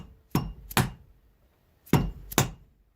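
A hammer tapping a long socket into a round metal tube: four sharp, close metallic blows arranged as two quick pairs separated by a pause, each ringing briefly.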